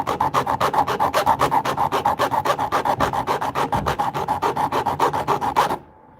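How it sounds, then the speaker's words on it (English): Hand file sharpening a chainsaw blade, steady rhythmic rasping strokes repeated evenly about four times a second, close and loud, stopping abruptly near the end. "once I start sharpening the blade, I've got to completely finish it"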